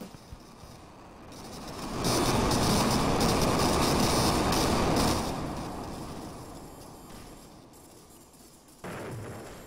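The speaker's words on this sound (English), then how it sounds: "Explosions." Explosions in the Roblox game Interminable Rooms: a loud, sustained roaring rumble swells in, holds for several seconds, then slowly fades away, with a brief burst returning at the end and no talk.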